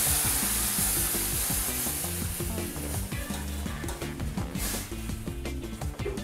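Loud, dense sizzling as salsa is poured into a hot pan for roast pork loin, a steady crackling hiss with bubbling and spattering and some stirring noises up close.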